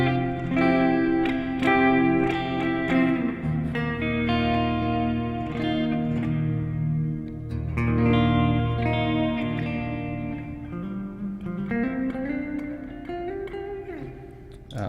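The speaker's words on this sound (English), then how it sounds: "That's the Mini Hof reverb on like Andes Cathedral setting." Guitar played clean through a Mini Hof reverb pedal on a cathedral setting into a '68 Fender Custom Deluxe Reverb amp, with sustained chords and notes ringing into a long, washy reverb tail, loud and continuous with no talking.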